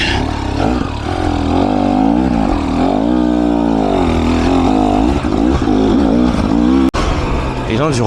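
A KTM 300 EXC TBI Six Days 2024 enduro motorcycle engine drones loudly and steadily while being ridden. The engine pitch shifts with throttle changes, and a voice talks over it throughout.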